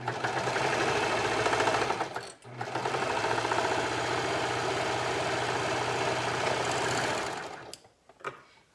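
A sewing machine runs steadily while stitching a pocket on a pair of kids' pants, its fast, even whir loud and close with one brief pause partway through before stopping near the end.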